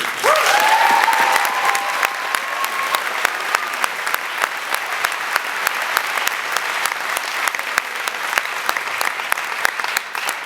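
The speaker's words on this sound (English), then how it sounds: "Please help me welcome, give a big, big, big, big round of applause to Assemblywoman Catherine Baker." A large audience at a charter school graduation ceremony claps steadily for about ten seconds, dense applause with some cheering at the start, sustained without fading much.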